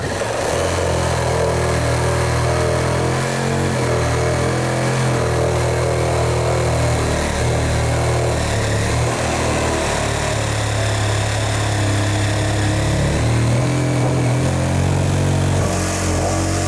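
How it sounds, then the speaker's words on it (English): Oscillating multi-tool cuts away leftover wood from a stud in a bathroom wall, a loud, continuous buzzing drone held close throughout with slight shifts in pitch as the blade works. "I'm gonna use this multi-tool to clean it up and finish it off."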